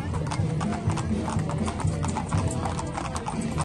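A group of horses marches in a civic-sports parade for the anniversary of the Mexican Revolution, their hooves clip-clopping in a rapid, overlapping patter on pavement, loud and close amid crowd noise.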